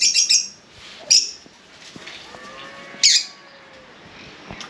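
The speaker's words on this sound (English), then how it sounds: "I love the birds." Several birds squawk and chirp in loud, sharp bursts at close range in a Puerto Rico setting, with softer calls between them.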